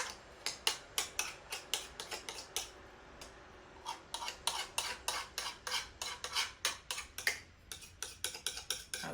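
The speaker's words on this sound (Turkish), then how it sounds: "Bunu güzelce sıyırın arkadaşlar." A spatula scrapes San Sebastian cheesecake batter made with labneh out of a bowl, giving a quick, steady run of close, rhythmic scraping and clicking strokes against the bowl's side, with no talking.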